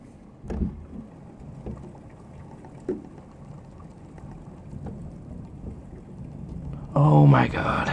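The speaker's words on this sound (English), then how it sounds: "Stupid rain." Steady rain falls during a heavy thunderstorm in Grootebroek, Netherlands, with a few dull thumps, and a loud burst of thunder near the end.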